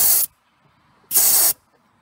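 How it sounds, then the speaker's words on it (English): Refrigerant pressure blasting out of the Schrader service valve on a Porsche Boxster 986 air-conditioning system, two short loud hissing sprays separated by a brief silence. "If you push down on it, that will release the pressure."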